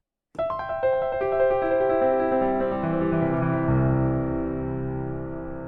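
A quick flurry of piano notes in a speed run using chord inversions cascades in, then the chord rings out and slowly fades, solo and close.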